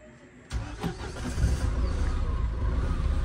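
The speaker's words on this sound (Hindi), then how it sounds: "देखते हैं गाड़ी का कोल्ड स्टार्ट कैसे रिएक्ट करती है" A car's engine turns over on a cold start on a high-altitude road trip in Ladakh, cranking briefly before catching and settling into a steady, loud mid-pitched idle that runs on without talk.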